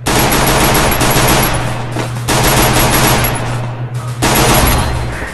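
Rapid automatic gunfire in a shooter video game, loud continuous bursts of machine-gun fire with a short break near the end, no talking.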